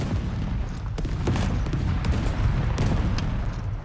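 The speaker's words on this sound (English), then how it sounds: "Watch out, there's guys shooting." Gunfire in a video game battle of one tank against five helicopters, with sharp cracks of shots popping over a steady, loud rumble of battle noise throughout.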